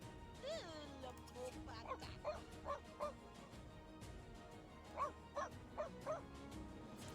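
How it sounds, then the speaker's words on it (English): A dog in The Sims 2 video game barks in short bursts of sharp, yappy calls, a cluster early and another later, over quiet game ambience. "No barking."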